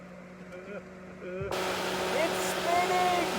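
A replacement radiator cooling fan on a 2005 Pontiac Vibe switches on about halfway through, giving a steady, close whooshing roar that continues to the end, with a person speaking over the hum before and during.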